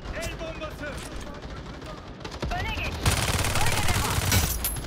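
Rapid bursts of automatic submachine gun fire in the video game Battle Teams 2 crackle in quick succession, sharp and dense, with a louder stretch of sustained firing near the end.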